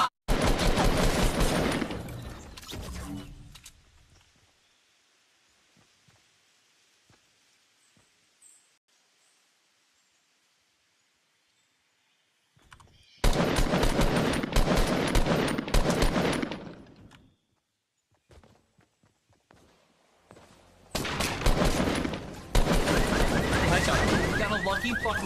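Automatic rifle fire in Fortnite, three dense sustained bursts of rapid, loud shots separated by quiet gaps with a few faint isolated pops.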